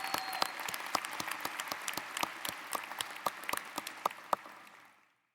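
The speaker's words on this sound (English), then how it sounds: "let's give her another round of applause" Applause at a university commencement ceremony: a sustained wash of clapping with distinct sharp claps standing out near the microphone, fading out toward the end.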